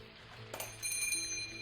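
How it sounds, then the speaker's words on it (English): A small bell above a shop door rings softly with a clear, thin chime that lingers for a moment, faint and close, in a quiet room with no voices. "The bell above me chimed softly as I entered."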